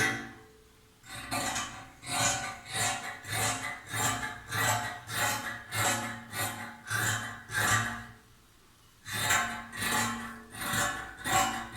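Fabric being cut for sewing, a run of about a dozen rhythmic rasping snips close by, with a short pause before the strokes start again, and no voices.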